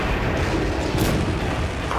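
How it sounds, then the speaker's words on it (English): A spaceship exploding in the space combat game Rebel Galaxy Outlaw, a dense, continuous roaring rumble of blasts that stays loud and sustained without pause. "My ship's all exploded all over the place."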